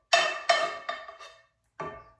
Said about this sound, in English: Sorry if I'm making the noise with this pan.